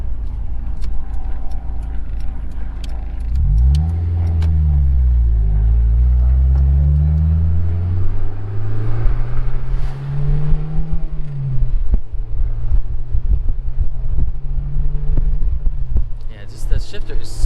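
A 2000 Honda S2000 manual sports car drives with a loud, close engine note that revs up through a gear, drops with a shift and climbs again, then settles into steady cruising, with a voice talking over it.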